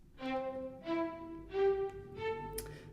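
Cinematic Studio Strings samples play four short mezzo staccato notes at an even pace, each with a clean attack and brief ring, the last note slightly higher.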